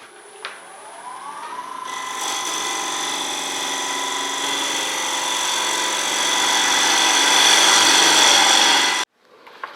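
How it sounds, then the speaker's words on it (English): A 3/4 inch M2 HSS scraper rubs across a very dry elm bowl spinning on a wood lathe, giving a steady, close, hissing scrape with a tonal whine that grows louder before stopping abruptly. "now I've got a 3/4 inch M2 HSS steel, and I'm just gently scraping"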